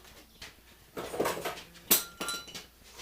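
Items set down into a small homemade powder paint oven make a few close metallic clinks and knocks, one light tap first, then a cluster of clatters and a sharper clink, in an otherwise quiet room.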